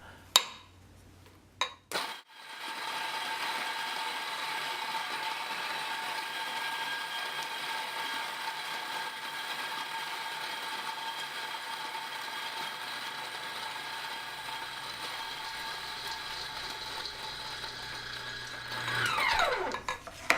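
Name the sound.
coffee grinder grinding beans directly into pour-over cone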